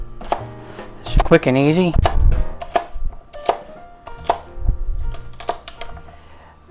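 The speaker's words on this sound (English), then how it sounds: "We'll just cut them up." Knife chopping cooked pot roast into big chunks on a cutting board, a series of sharp irregular thuds and clacks, with someone talking briefly between cuts.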